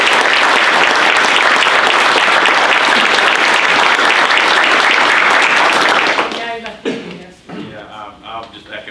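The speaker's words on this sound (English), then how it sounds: "So I'd like to have one more round of applause for" A large room at a utility board meeting fills with loud, dense audience applause for about six seconds, then the clapping breaks up into scattered claps as it fades away.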